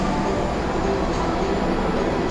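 Steady rumbling interior noise of a stainless steel executive-class Manahan passenger train running between Cirebon and Yogyakarta, a continuous close, even roar with no clear breaks.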